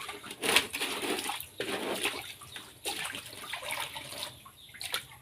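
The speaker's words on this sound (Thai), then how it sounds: "ต่อไปก็คือไล่น้ำเปล่า" Laundry being rinsed by hand in clean water in a basket or tub, with bursts of splashing and sloshing water that come and go over several seconds, fairly close and moderately loud.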